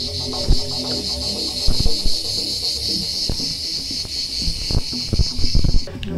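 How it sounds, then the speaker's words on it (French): Cicadas sing in a loud, continuous high buzzing drone from outside an abandoned clinic room with a small balcony, steady throughout with scattered clicks and rustles beneath. "Au chant des cigales, tranquille."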